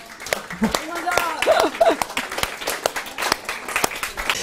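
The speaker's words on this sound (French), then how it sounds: "Et je pense qu'on peut vous applaudir." Conference audience applauding a speaker in a hall, a dense patter of clapping with scattered louder claps, while voices and some speech-like sounds carry over it.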